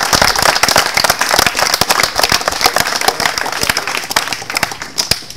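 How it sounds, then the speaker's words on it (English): A dense, steady round of applause from a crowd at an evening program completion ceremony, with many sharp, close claps filling the room continuously and no talking. "So can we get a big round of applause for everyone who gets up here tonight?"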